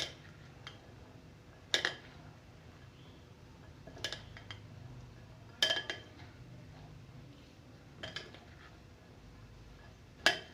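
A spoon clinks against a bowl while mixing chana chaat of black chickpeas, green coriander, masala and green chilies: a handful of sharp, separate metallic taps spaced a couple of seconds apart over soft stirring, close and fairly quiet.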